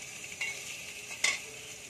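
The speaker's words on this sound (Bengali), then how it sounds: "বাকি মাছগুলো আমি ভেজে নিচ্ছি।" Fish pieces fry in hot oil in a home kitchen, giving a faint, steady sizzle with a couple of brief louder crackles or stirring scrapes and no voices.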